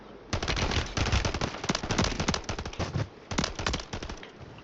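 Burst-fire gunshots in the video game Warzone 3 Plunder mode, sounding as dense, rapid volleys of close, loud shots that run almost continuously with brief gaps between bursts.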